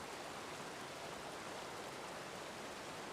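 Mountain streams swollen with snowmelt give a soft, continuous hiss of flowing water, steady and distant, with no other sounds.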